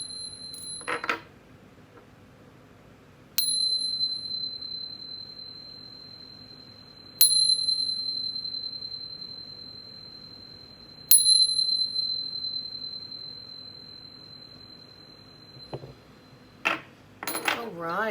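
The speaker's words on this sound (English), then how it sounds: "But first, let's chime." A single chime bell rung before a tarot reading strikes four times, each bright metallic tone ringing out and slowly fading over several seconds in a quiet room, with brief rustling handling sounds near the end.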